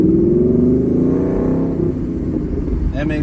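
A loud car revs nearby, its engine climbing then settling into a heavy rumble with harmonic whine, filling the moment alone.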